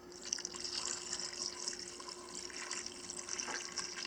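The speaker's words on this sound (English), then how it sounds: "Here I'm adding the reserve water from boiling our vegetables." Reserved water from boiling vegetables poured into homemade vegetable stock for potato soup, a steady quiet trickle and splash of liquid, continuous and faint with no talk.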